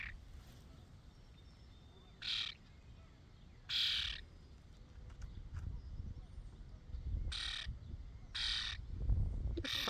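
A friendly pet bird gives several short, loud calls in bursts close to the ear, spaced irregularly amid low background rumble and a person speaking.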